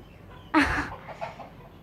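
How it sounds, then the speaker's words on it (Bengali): A hen that has just laid an egg gives a single loud, close cackle, with softer clucks trailing after it. "আমার মুরগি ডিম, ডিম দিছে।"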